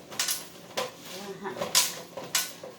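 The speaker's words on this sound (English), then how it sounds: "We're going to mix it all up and get in there and put all that flavor on" Brussels sprouts being tossed with seasoning in a bowl by hand, giving a few soft, irregular clattering and rustling bursts close by against a quiet background.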